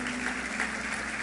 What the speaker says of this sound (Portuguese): Era a hora de você aplaudir a Jesus.